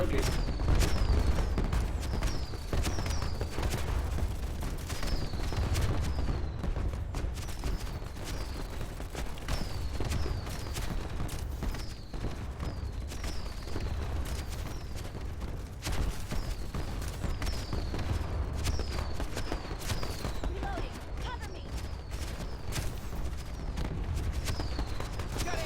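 Gunfire and fireworks go off at a warp gate party in the PlanetSide 2 video game, a constant barrage of shots and booms mixed with repeated chirping blasts, heard under ongoing voice chat.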